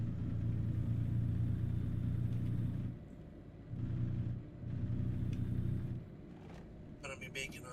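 A car drives along a road, its steady low rumble loud and close, dropping away briefly twice before returning, with a short burst of higher clatter near the end.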